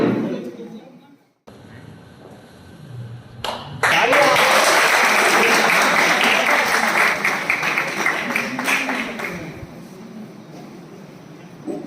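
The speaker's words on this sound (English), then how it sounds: "huge round of applause for her" Loud applause from a crowd at a college freshers' party swells after a few seconds and carries on steadily, with a voice speaking briefly at the start.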